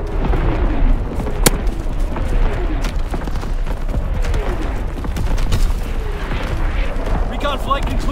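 Heavy artillery booms and bursts rumble through a Call of Duty: WWII multiplayer match on Pointe du Hoc, loud repeated blasts layered over dense battlefield noise, with voices calling out in the mix.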